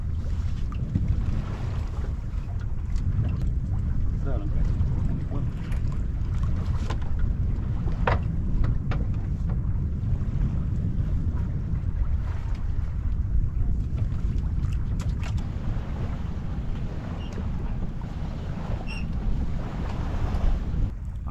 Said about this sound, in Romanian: Abia adie vântul.